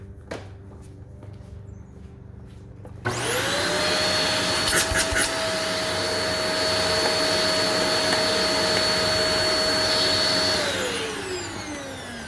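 A Moosoo S2 cordless vacuum cleaner cleaning a car mat starts abruptly after a quiet moment, then holds a steady, loud whining drone for about seven seconds before powering down, with no talk.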